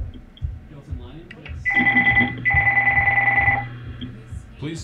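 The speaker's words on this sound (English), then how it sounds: "I think we just got a phone call." A telephone rings in two sustained electronic trills, fairly loud and close, with a short gap between them and faint background noise around them.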